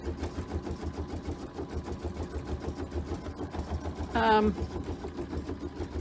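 An embroidery machine stitches appliqué with a steady, fast mechanical whirring rhythm, joined by a short rising electronic beep near the end; a voice speaks over it.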